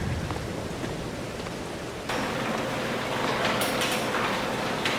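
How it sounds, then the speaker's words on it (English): Steady rain falls in the Farming Simulator 22 video game on an Ohio farm, a dense even hiss of drops that swells slightly louder partway through and carries on without a break. "the raining icon in the upper right has disappeared, although the raindrops are still falling"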